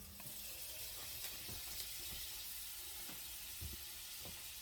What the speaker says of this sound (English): I'm going to add my butter